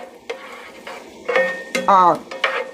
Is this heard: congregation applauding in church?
no